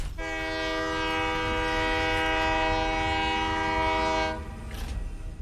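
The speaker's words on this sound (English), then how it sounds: "It's fine that I honk the horn." The train horn in the factory-building game Satisfactory sounds one long, loud, steady blast of about four seconds, then cuts off.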